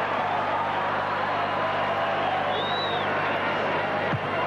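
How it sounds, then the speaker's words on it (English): Rugby league fans at a 1983 Parramatta versus St George match cheer a Parramatta player leaving the field, a broad, steady roar of distant stadium crowd noise with a whistle-like call rising briefly above it. "The fans give him a great cheer in a fine game."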